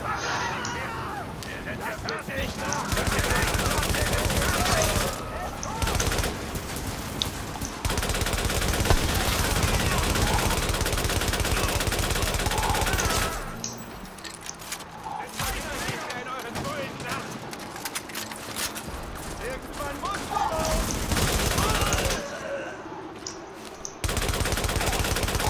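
Sustained automatic gunfire rattles through a firefight in The Division, loud bursts running for long stretches with brief lulls, under occasional speech in German.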